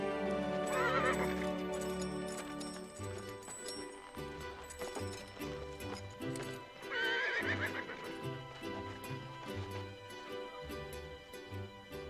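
Horses set off at a ride, neighing loudly twice amid steady clip-clopping hooves, with a musical score playing underneath throughout.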